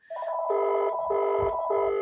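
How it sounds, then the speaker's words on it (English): A telephone rings in a household setting: a loud, close electronic trill repeats in three even bursts, with short gaps between them. "The phone's ringing again."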